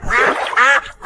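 A flock of ducks being driven into a rice paddy quacks loudly in three close, harsh bursts with brief gaps between them, with no voices over them.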